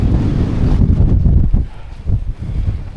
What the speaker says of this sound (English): we're definitely showing that we've got the wind up here